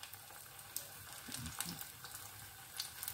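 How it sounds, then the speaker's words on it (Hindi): Potato pakoras frying in hot oil, a steady soft sizzle with faint crackles and a few small bumps from the pan, fairly quiet throughout with no talk. "इसी तरह से मैं सारे बना के फ्राई कर रही हूँ"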